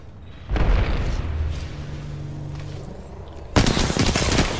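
A grenade blast in a team-based shooter game, a sudden heavy boom followed by rumbling gunfire, then a second sharp burst near the end, loud and close.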